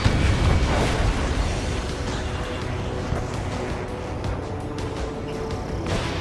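In the Ace Combat 7 flight game, a missile strikes an enemy aircraft with a loud rumbling explosion that fades into a sustained roar of jet engine noise.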